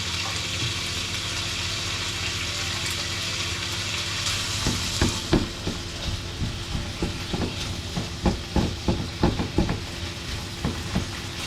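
Confit duck gizzards begin to sizzle in a hot pan, a steady frying hiss that builds, with a run of close clinks and scrapes from the pan later on.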